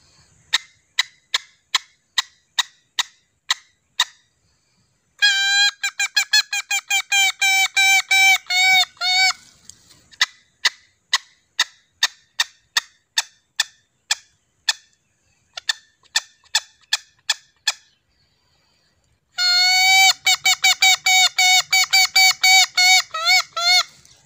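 A series of sharp, piercing honking calls blown on a leaf imitating a jungle fowl, first in evenly spaced single blasts, then in rapid buzzing bursts, loud and close.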